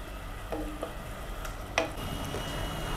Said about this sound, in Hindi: मटन हमारा भुन रहा है।